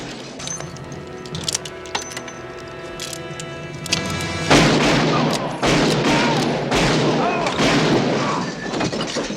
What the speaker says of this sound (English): The moment they make their move, he guns them all down in seconds.